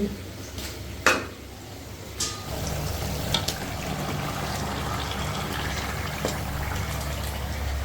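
Marinated mutton tumbles into a kadai with a soft thud and a brief clatter, then settles into a steady low hiss and sizzle, with a few light metallic knocks of pots and utensils.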